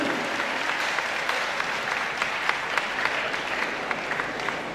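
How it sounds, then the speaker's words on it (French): A graduation ceremony audience applauds the class godmother, a steady dense clapping of many hands with sharp individual claps standing out, heard close and without talk. "Je vous demande d'applaudir la marraine de la promotion."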